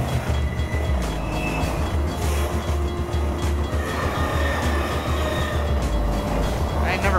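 A train breaks apart in a Valve video game, heard as a loud, steady rumbling and rattling railcar roar with clattering and a short squeal near the end, under a voice.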